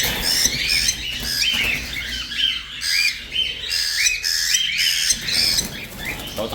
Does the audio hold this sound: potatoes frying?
no